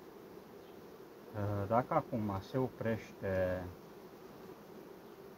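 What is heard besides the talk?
bees buzzing in a beehive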